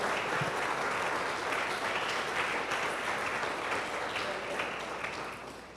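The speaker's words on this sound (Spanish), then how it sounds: "Oye, dele a palmas al Señor." A church congregation claps hands during a service, a faint, continuous patter of many hands with voices murmuring under it, fading slightly toward the end.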